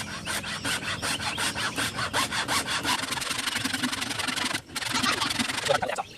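A hacksaw works through material for a homemade self-watering planter, its strokes rapid and rhythmic and up close. The sawing runs steadily throughout, breaking off for a moment near the end before resuming.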